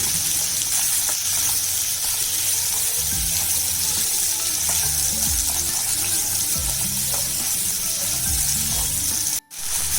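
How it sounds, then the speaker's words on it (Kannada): Chopped tomatoes frying in a pan for a restaurant-style egg curry, a loud continuous hiss and sizzle with occasional stirring clatter, close up and without speech. "ಸ್ವಲ್ಪ ಟೊಮೆಟೊ ಸಾಫ್ಟ್ ಆಗೋವರೆಗೂ ಹುರ್ಕೋಬೇಕು ಹಿಂಗೇನೆ"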